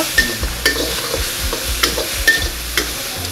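Masala fries in a pan in a hotel kitchen, a soft sizzle under repeated rhythmic stirring scrapes and clinks of a utensil against the pan, close up with no voices.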